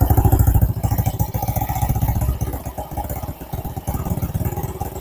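A Honda Blade Revo motorcycle engine idles steadily up close during carburetor adjustment after cleaning, a loud, even chugging with a small rise and dip in revs partway through.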